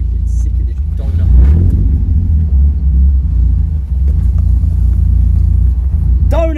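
A car engine rumbles loud and close, rising in a revving surge while the car spins through a donut, with people talking and exclaiming inside the cabin.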